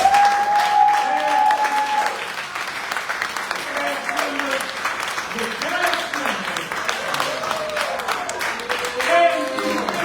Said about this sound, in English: We want to ask you to give a round of applause.